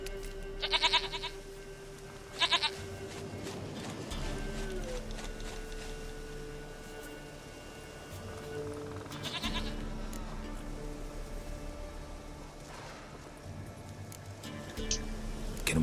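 A goat in the video game The Witcher 3 bleats in short, sharp, wavering cries, two close together early on and another later, over a steady game ambience of low hum and faint outdoor sounds.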